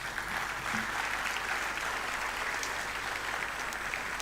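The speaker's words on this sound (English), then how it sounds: "I think she deserves a round of applause." Audience at the inauguration ceremony of Pune Start-up Fest 2022 applauds in a steady, dense wash of clapping that stays even and fairly distant throughout, with no voices over it.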